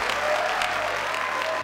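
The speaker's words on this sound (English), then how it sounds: "Hey, let's get some claps!" An audience applauds in a sustained burst of steady clapping at a livestream welcome for a guest, a busy, close wash of many hands lasting the whole moment with no talk over it.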